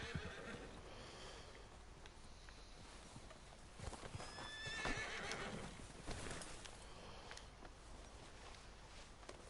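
A horse whinnies once in the middle in Red Dead Redemption 2, amid steady outdoor ambience and faint hoof clops, with no talking.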